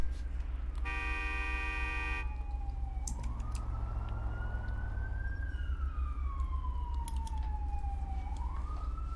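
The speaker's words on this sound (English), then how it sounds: "Honk your horn one more time." A car horn honks in a video game, one short steady blast near the start, followed by siren-like wailing and traffic noise over a constant engine drone.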